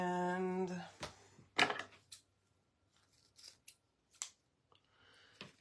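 Scissors trimming ribbon on a snowman decoration: a couple of crisp snips up close, followed by small scattered rustles and clicks in a quiet room.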